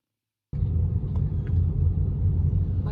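A Mazda Biante people mover on the move, heard as a steady low road and engine rumble that starts abruptly after a brief silence and holds even and unbroken.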